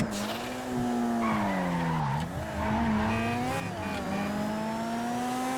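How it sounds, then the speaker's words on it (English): An Übermacht Revolter car in GTA V Online drives and skids, its engine droning with rising and falling pitch as tires squeal through turns, loud and continuous. "we're gonna take the Übermacht Revolter down to Los Santos tuner garage"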